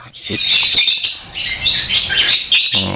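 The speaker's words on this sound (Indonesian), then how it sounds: "lovebird saya kalau dijemur ngeriwik ya, itu wajar om" Several male lovebirds housed in separate cages chirp busily together at close range, producing loud, dense, overlapping high tweets and squawks in short rapid bursts.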